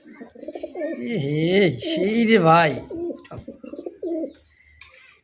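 Fancy pigeons coo in rolling, repeated calls close by, with a voice speaking briefly over them.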